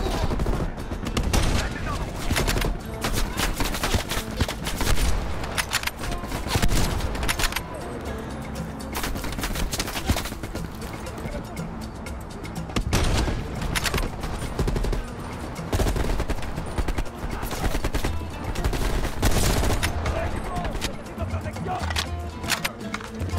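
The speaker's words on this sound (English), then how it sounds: "Oh no, we've got a machine gun." Machine gun fire in the video game Black Ops Cold War: loud, dense bursts of automatic gunshots rattle almost continuously, with sharper volleys standing out throughout.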